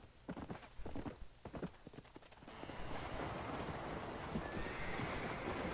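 Galloping horse in Red Dead Redemption, hooves beating a fast clip-clop rhythm up close with a whinny. It gives way to a steady rushing wash of motion noise.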